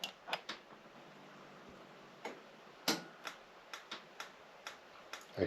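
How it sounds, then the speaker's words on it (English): Gas igniter on a Dometic RM2351 RV fridge clicking as it tries to light, a faint series of sharp, irregular ticks spaced roughly half a second apart over a quiet hiss, with no talking. "I can hear the gas trying to fire on."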